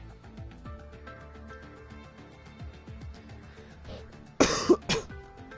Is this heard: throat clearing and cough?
yes